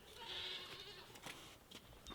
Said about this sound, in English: Let's go see the goats.